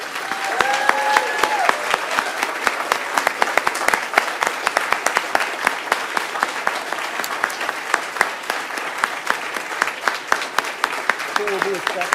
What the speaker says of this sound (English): Folks, let's give these people a round of applause.